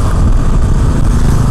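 A KTM Duke 200 NG motorcycle engine running while riding, a loud, dense low rumble with rough steady texture and wind noise throughout, no talk.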